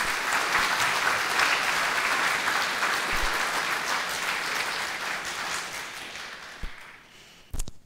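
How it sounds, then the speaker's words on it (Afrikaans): A church congregation claps its hands in warm, sustained applause that fills most of the stretch and slowly fades, ending in a few scattered late claps. "Kom ons gee vir hulle lekker hande klap"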